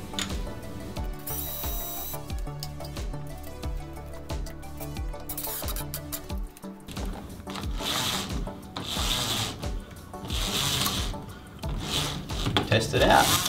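Bursts of a power drill pre-drilling screw holes for roller blind brackets, several short runs with mechanical rattling and handling noise between them, fairly close.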